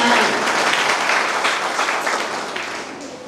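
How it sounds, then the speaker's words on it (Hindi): Audience applause at a Hindi comedy poetry (hasya kavi) show, a dense, steady wash of many hands clapping that fades slightly toward the end, with no talk over it. "ताली बजाओ, सांस लेना है।"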